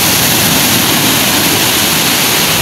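Strong sea waves crash against a shoreline in rough weather, a loud, steady roar of surf and spray filling the whole moment without a break.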